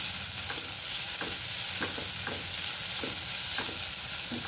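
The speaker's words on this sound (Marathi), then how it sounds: "कांद्याबरोबर आलं, लसूण आणि खोबऱ्याची पेस्ट पण परतून घ्यायची" Onion sautéed with ginger, garlic and coconut paste in a pan gives a steady, close sizzle, broken by a regular series of stirring scrapes about every half second.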